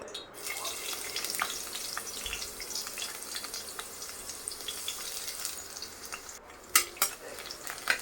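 Crushed garlic frying in two ladles of oil and being stirred in a pan, a soft steady sizzle with faint scrapes, then a few sharper utensil knocks near the end, close but fairly quiet.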